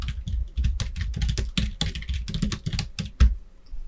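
Rapid typing on a computer keyboard, a steady run of close, crisp key clicks with a few heavier strokes, no voices.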